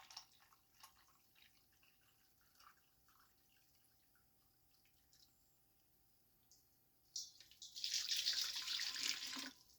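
Warm water runs from a kitchen tap for bread dough, faint drips and trickles at first, then a louder steady hiss of flowing water near the end.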